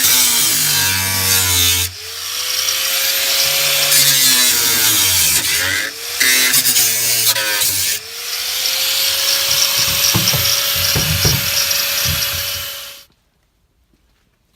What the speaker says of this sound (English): since the floorboards were already rotten, we figured we'd cut them out